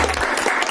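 Audience at a school alumni reunion gathering applauding continuously, a dense, loud burst of clapping close by that fills the whole moment without letup.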